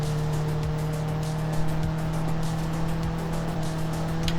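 A car engine drones steadily in the BeamNG racing game on the Nordschleife circuit, a loud, continuous, even hum with faint tire noise and no talk.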